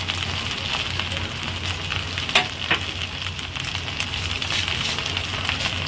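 Rice for Bengali jeera rice fries in a hot pan with a steady, even sizzle close by, broken by a couple of sharp taps around the middle.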